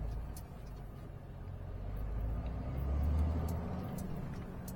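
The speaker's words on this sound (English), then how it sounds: "He's moving a car out for some reason." A car being moved out of a parking place rumbles faintly from a distance, its low engine swelling and then easing over quiet street background.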